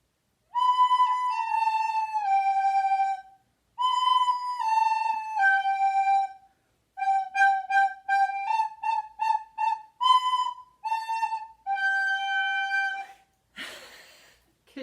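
A short melody on a woodwind, with sustained and quick tongued notes in phrases and brief pauses, close and alone, ending in a breathy burst.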